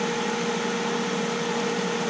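A swimming pool pump running at the filter, a steady, loud broadband whir with a low hum, close up and unchanging, with no voices.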